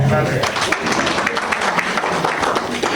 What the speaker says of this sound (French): Nous pouvons également applaudir la présence des sages ce soir.